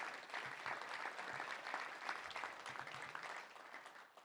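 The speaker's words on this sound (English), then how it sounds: "one more time for a big round of applause for all of our sponsors" Audience at a touchdown club luncheon applauds its sponsors, with steady, dense clapping from a roomful of people filling the whole stretch before tapering slightly at the end.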